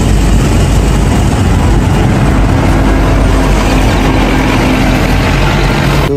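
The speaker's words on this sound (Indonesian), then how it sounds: "Wow, di sini ada mobil bis." A toy bus plays a loud, steady recorded engine sound, a dense idling rumble that runs unbroken for several seconds without any voices.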